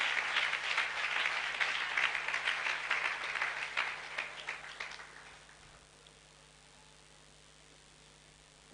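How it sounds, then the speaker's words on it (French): Church congregation clapping hands in dense, continuous applause at close range for about five seconds, then tapering off into quiet room tone. "Clap your hands."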